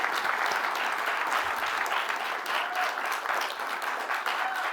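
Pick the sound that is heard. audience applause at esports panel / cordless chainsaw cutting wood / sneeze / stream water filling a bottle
audience applause at esports panel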